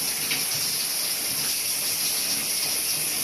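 Steady splashing and trickling of freezing cold water as a person shifts backward to submerge the back of the neck, continuous and close with no talking.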